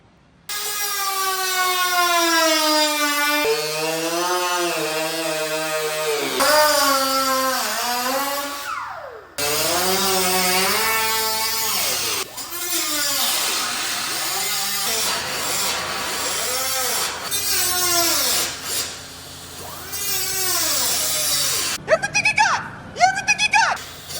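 A power saw cuts through the body panel of a Jeep XJ for a Bushwacker flat fender install, a loud continuous whining cut that shifts pitch as the blade loads and frees, ending with a few short bursts.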